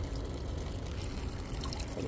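A constant stream of water pours and splashes from the drain of a Mitsubishi City Multi air conditioner, close and unbroken, with no voices.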